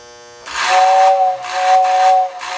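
A model train whistle blows twice, a hissing, steamy tone with a steady pitch, close and loud, the second blast following a short break.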